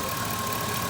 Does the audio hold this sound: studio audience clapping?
no